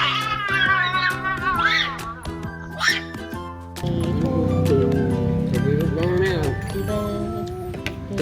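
A cat meows repeatedly in rising, wavering calls over steady background music and people chatting nearby.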